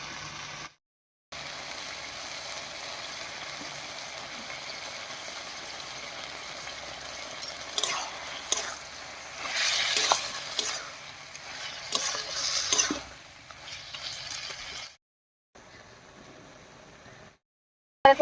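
Taro greens stirred and frying in a pan over tempering spices give a steady broadband sizzle with soft scraping swells in the middle, fading briefly near the start and again toward the end.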